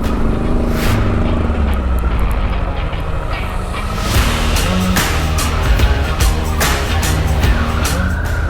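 A 2021 Harley-Davidson Pan America Special moves slowly off road, its engine rumbling loud and close with uneven throttle blips, tire scrabbling and scattered clunks.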